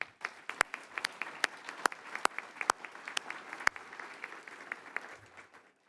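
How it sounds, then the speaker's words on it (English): Scattered, fairly soft clapping from an awards event audience, with sharp individual claps standing out irregularly from the sparse patter before it thins toward the end. "Let's give them all another round of applause."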